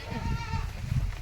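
Bleating from a pregnant goat kept with a small herd on a farm, a steady nearby call heard over low background rumble.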